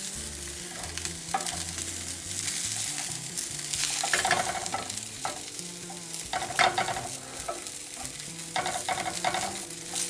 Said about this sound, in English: And I'm just toasting the bacon again.